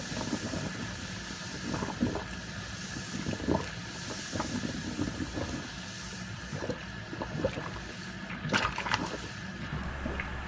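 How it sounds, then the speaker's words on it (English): Baking soda and vinegar fizz and bubble down a drain, with a faint continuous hiss and scattered small pops and gurgles close by, and no one speaking. "when you stop seeing all the bubbling and you don't really hear it in the drain"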